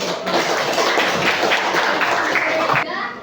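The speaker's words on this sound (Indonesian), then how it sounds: "Beri tepukan semangat" Applause from a classroom of students cheering on group 3 after a teacher's prompt, a dense, fairly loud patter of clapping lasting about three seconds before trailing off.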